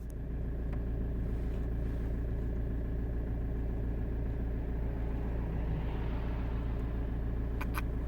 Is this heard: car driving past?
yes